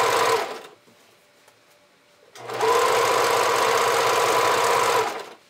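Sewing machine stitching half-inch band elastic onto folded bra fabric, running in two loud steady bursts with a short quiet pause between them, close up and with no talking.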